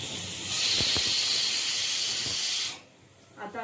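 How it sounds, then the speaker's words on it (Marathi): A stovetop pressure cooker holding dal with rice on top lets off its third whistle, a loud continuous hiss of escaping steam for about two seconds that stops abruptly, followed by quieter kitchen sounds. "आता आपली 3री शिट्टी झाली आहे."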